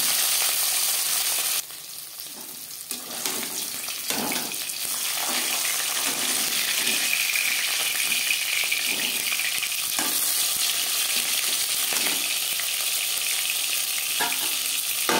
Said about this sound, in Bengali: মাছ এক পিস ভাজা হয়ে গেছে